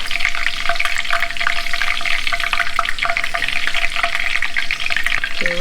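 Leaves frying in a pan of hot oil into a crispy garnish for Thai fish cake: a loud, dense, continuous sizzle and crackle, close up and steady throughout, with no voices.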